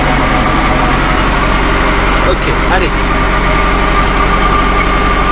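A farm tractor's engine held at 1500 rpm while spreading fertilizer for sunflowers, a loud, steady, close drone throughout, with someone speaking briefly over it.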